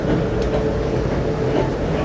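Steady low rumble of a train rolling around Horseshoe Curve, continuous and fairly loud, with faint rhythmic clatter and no voices.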